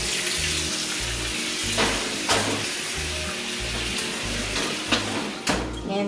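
Montreal-crusted steaks hit a hot pan and crackle with a continuous loud sizzle, punctuated by occasional sharp spits, while a rhythmic low pulsing hum runs beneath.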